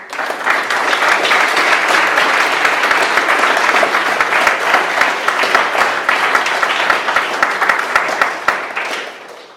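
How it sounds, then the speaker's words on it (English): A wedding ceremony crowd breaks into applause for the couple, dense, steady clapping from many hands sustained for nearly ten seconds before tailing off. "I think they deserve a round of applause"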